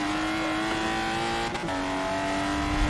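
A race car in a racing video game holds a loud, sustained engine drone with steady pitch, a brief dip and tire scrub midway, continuous and close.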